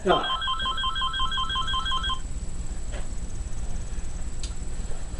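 A phone's electronic ringtone trills repeatedly for about two seconds, then stops, leaving a noisy background.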